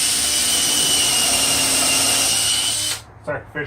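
A power drill whines loudly and steadily, boring into wood for about three seconds before stopping, followed by a few brief voice sounds.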